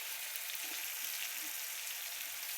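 Salted tomatoes fry in a pan with a steady, close sizzle, a faint bubbling hiss with occasional soft stirring sounds underneath.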